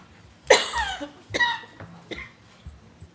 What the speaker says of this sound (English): Everybody's coughing up here.